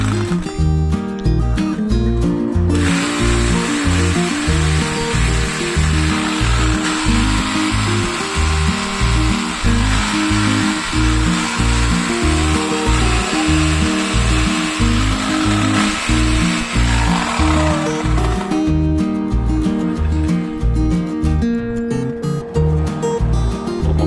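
A rotary hammer drill with a concrete bit runs continuously with a harsh, buzzing whine and rhythmic pulsing for a long stretch, close and loud, starting and stopping abruptly.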